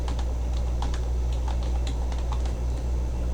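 Keys on a computer keyboard tapped in a quick irregular run as a label is entered in HMI programming software, close and fairly crisp over a steady low hum, with no talking.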